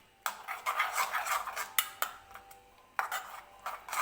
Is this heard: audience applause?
no